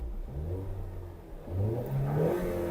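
A 2021 Ford Mustang with the EcoBoost engine revs up close, its idle swelling into a throaty rise of throttle blips that hold loud near the end.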